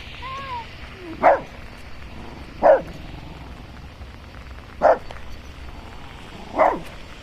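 Four short dog barks spaced a second or two apart, moderately distant over a quiet background hum.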